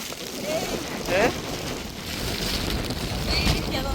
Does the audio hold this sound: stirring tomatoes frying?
no